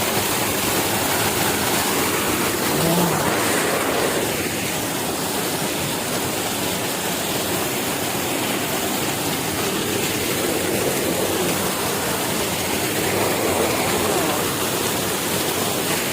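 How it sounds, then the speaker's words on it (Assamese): A constant broadband rush of falling water from small cascades near Kynrem Falls, Meghalaya, steady and unbroken for the whole stretch, with no voices. "এনেকুৱা সৰু সৰু ৱাটাৰফল বহুত আছে"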